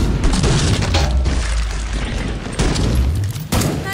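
Gunfire in Killing Floor 2 comes as a dense, loud barrage of overlapping shots and booms that rolls on without a break, with a sharp burst near the end.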